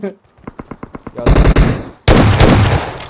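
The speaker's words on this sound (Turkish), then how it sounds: "Pompalı ya vuruyorum sana kaç defadır" Pump shotgun fire in the PUBG Mobile video game: a run of rapid, evenly spaced shots, then two loud, heavy blasts close up, each followed by a sustained roar of noise.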